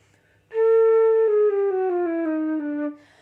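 A solo flute plays a slow, descending line of held notes with a breathy, airy tone, clear and close, with silence before and after.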